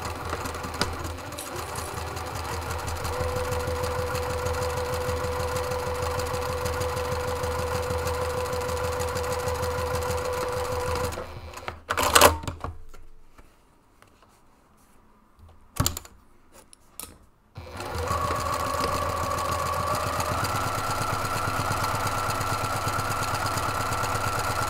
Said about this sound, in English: you're going to sew down the right and the left-hand sides